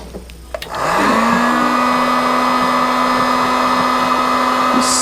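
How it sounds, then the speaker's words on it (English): A heat gun blows hot air to shrink wrap over a bungee cord while rigging a YakAttack BlackPak. After a short quiet moment, a close, steady whirring blower starts and runs without a break to the end. "Now I'm going to use my heat gun."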